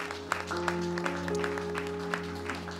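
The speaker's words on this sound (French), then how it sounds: "Est-ce que nous pouvons nous lever et faire des acclamations à notre Dieu ce matin?" A church congregation at a Sunday service claps in a steady rhythm over sustained organ or keyboard chords, the hand claps moderately loud and evenly spaced.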